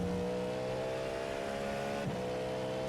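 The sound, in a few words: race car engine accelerating in iRacing video game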